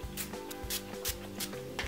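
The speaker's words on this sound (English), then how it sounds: "I'm just going to spray some of that into my hair." Kenra blow dry mist is sprayed into hair in short hissing bursts, about four close, evenly spaced pumps over a faint steady background tone, with no talking.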